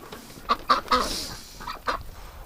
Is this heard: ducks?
yes